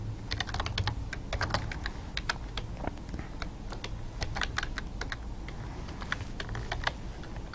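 Computer keyboard keys being typed while writing C++ code, a rapid irregular stream of close, crisp clicks with brief pauses between bursts, and nobody speaking.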